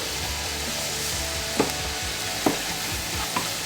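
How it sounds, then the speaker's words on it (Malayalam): Filling for momos and meat pathiri being sautéed in a pan: a steady sizzle runs throughout, with three sharp spatula scrapes against the pan at roughly even intervals and no talking. "നന്നായിട്ട് വഴറ്റിയിട്ടുണ്ട്."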